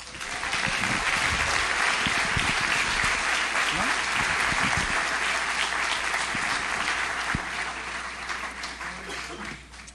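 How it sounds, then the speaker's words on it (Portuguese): A church congregation applauds the Lord during a Sunday service at an evangelical church's anniversary, steady loud clapping filling the hall for the whole stretch, with some voices mixed in before it tapers slightly at the end. "aplauda ao Senhor"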